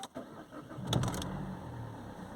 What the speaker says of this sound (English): So we started the car